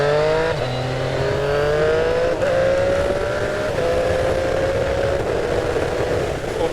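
A Yamaha MT-09 motorcycle fitted with an L-Tech quickshifter accelerates hard and loud, the engine note climbing steadily through quick gear changes with brief dips at each shift, heard up close with wind noise.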